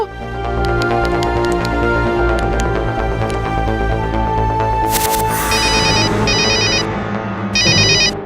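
Mobile phone ringtone in an animated Hindi cartoon plays as a loud, continuous electronic melody with repeating chime-like tones, later joined by short bursts of bright ringing beeps near the end, with no voices.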